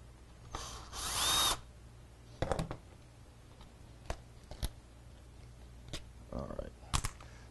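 A power drill, driven in short bursts, backs out the last screw on a 2000–2002 Chevy/GMC/Cadillac driver seat, with a longer whir first and then brief clicks and ratcheting bits, faint and close in a quiet space.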